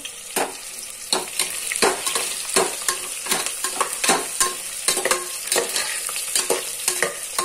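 Onions are sautéed in a pan with brisk, regular stirring strokes that scrape and clatter about twice a second over a constant bright sizzle, close and loud, with no talking.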